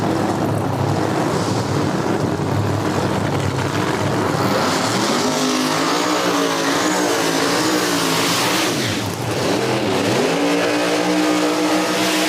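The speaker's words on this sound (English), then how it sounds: "These drivers just finished up their burnouts over in the right lane." No-prep drag race cars at Cordova Dragway doing burnouts, loud roaring engines revving and rising and falling in pitch, with wind buffeting the microphone throughout.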